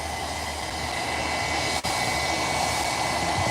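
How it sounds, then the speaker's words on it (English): A TUI Boeing Dreamliner from Manchester passing overhead near Liverpool Airport: a continuous broad jet roar, loud and steady across the whole stretch, with a brief dropout midway and no talking. "We do have a Dreamliner just going over our head from Manchester."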